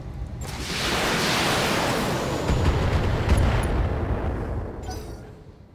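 Artillery strikes in the BattleTech mech game make a long, rolling roar of explosions, swelling and sustained for several seconds before fading out, heavy and loud.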